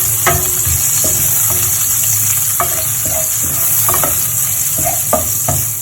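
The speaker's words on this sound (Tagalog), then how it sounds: "O, magigisa na tayo." Garlic sautéing in a pan for rice porridge (lugaw), a steady loud sizzle with repeated sharp stirring scrapes and clicks of a utensil against the pan, no talking.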